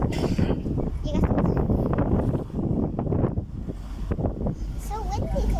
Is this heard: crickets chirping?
no